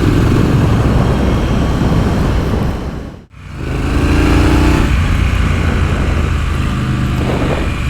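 A 2023 Triumph Scrambler 900 parallel-twin motorcycle being ridden, its steady engine drone and wind rush loud and close, dipping briefly to near silence midway before resuming at full strength.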